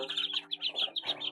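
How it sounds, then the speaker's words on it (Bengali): Native Indian Runner ducklings on a small hobby farm give high, thin chirps in quick overlapping bursts, a near and steady peeping chorus with no voices. "দেশি রানার হাঁসের বাচ্চা"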